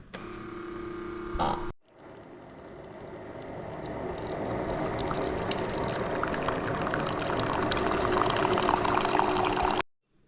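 Keurig K-Latte coffee maker brewing a 10-ounce cycle of vinegar while being descaled, a steady hissing, gurgling flow that runs for about eight seconds after a brief startup noise, then stops.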